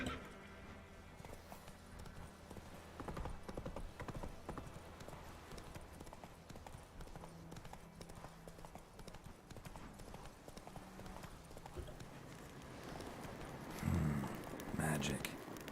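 Roach, the horse in The Witcher 3, thunders along in steady rhythmic hoofbeats throughout, with game music and ambient sound beneath and a brief louder burst near the end.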